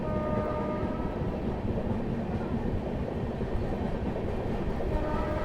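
The Amritsar–Mumbai Express passenger train rolls steadily along the rails, a continuous low rumble with faint rhythmic clatter, close and sustained throughout.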